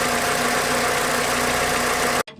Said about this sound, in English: Here we are again with the diesel engine